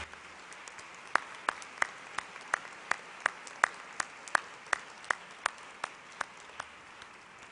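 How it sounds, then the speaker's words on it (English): Sparse applause at a university commencement ceremony: single, evenly spaced hand claps ring out faint and distant across a large hall, with no talking over them. "How about a round of applause for your ground crew in the stands?"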